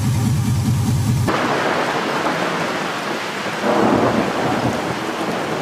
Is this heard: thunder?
yes